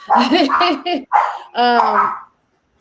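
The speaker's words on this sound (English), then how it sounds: "Actually, sorry, that's my dogs. They agree with me." Dogs barking indoors close by, several sharp tonal barks and yips in quick succession, loud and then falling silent.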